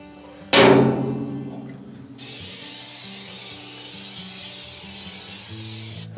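An aerosol can sprays a coat onto a new smoker and its sausage hangers before burn-in. A short hissing burst is followed by a longer, steady spray hiss, with metallic clanks and rubbing between them.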